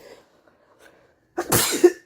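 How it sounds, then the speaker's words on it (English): A single loud sneeze bursts out after a brief quiet stretch with faint breathy sounds. "I'm so sorry for sneezing in y'all ear like that."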